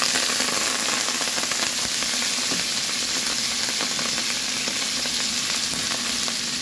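Water spinach (kangkong) fries in a pan with a continuous, close sizzle and crackle, dense popping spatters running steadily for several seconds without any talk.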